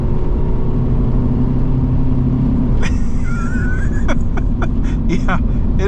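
A 1996 Toyota Land Cruiser Prado diesel accelerates at full throttle, a heavy, steady low engine drone heard from inside, with a voice speaking over it near the end.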